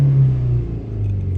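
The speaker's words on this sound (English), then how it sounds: "If we rev the engine up," A Ford Transit van's diesel engine, with a particulate filter pressure sensor circuit fault, is revved up, giving a loud, close low rumble that rises and then settles over a moment, with no talk.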